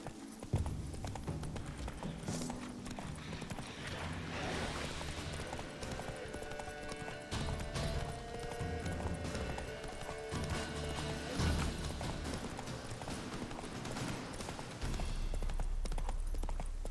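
Hooves of the horse Roach in The Witcher 3 beat in a steady galloping rhythm, close and continuous, with a brief whinny near the start.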